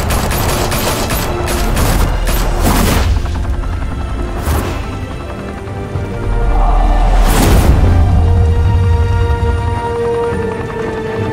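Gunfire in a Batman video game: loud, dense volleys of shots and booms in continuous bursts over a rumbling backdrop, with heavier crashing impacts partway through.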